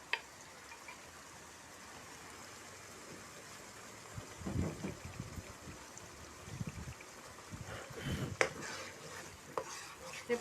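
Soft sizzling of chili paste sautéing in a pan with blended liquid added, faint and steady, with occasional stirring scrapes growing busier toward the end.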